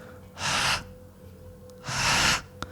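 A voice imitates two heavy, drawn-out exhaled breaths, each about half a second long, separated by a pause, loud and close with no talking.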